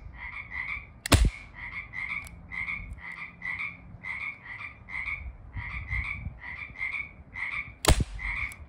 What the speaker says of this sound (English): Those frogs are annoying.